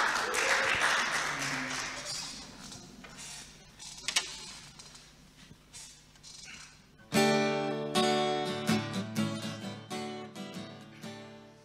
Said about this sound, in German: ihr dürft das gerne auch für euch selber klatschen